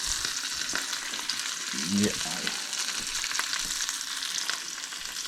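Wild poke greens sizzle steadily in hot bacon grease in a pan, a dense, even frying hiss with a few crackles, with a short spoken word partway through.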